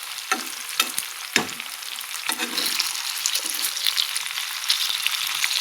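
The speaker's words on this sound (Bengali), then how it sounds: "কি এত তেল ছিটকে পড়ে যে গ্যাস পুরো নোংরা হয়ে যায়" Hot oil spatters and crackles while something fries, with a few sharp pops and utensil knocks at the start over a steady, bright sizzle that keeps going.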